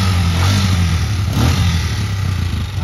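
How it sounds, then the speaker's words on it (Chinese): A 1999 Kymco Jin 150 motorcycle with a single-cylinder engine and original exhaust, idling loudly and steadily up close, with a brief rise in revs partway through. "单缸引擎啊，好啊"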